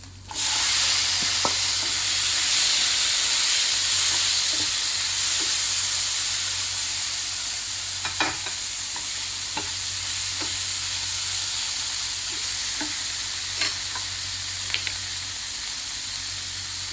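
Tomatoes hit fried chillies in a hot pan, a loud steady sizzle that settles to a softer frying hiss, with occasional light clicks of a spoon stirring.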